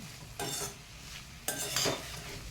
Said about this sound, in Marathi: दोन मिनटं व्यवस्थित परतून घेतली भाजी की त्यामध्ये चवीप्रमाणे मीठ घालून घ्यायचं आहे